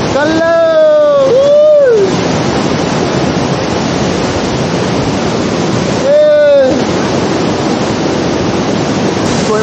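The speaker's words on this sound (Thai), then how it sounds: "เราก็มาถึงน้ำตกจุดที่สูงที่สุดของที่นี่กันเลย" Waterfall at the highest point of a newly opened jungle trail near Huay Tone village: a loud, continuous rushing roar, close by, with brief tonal voice-like sounds near the start and again midway.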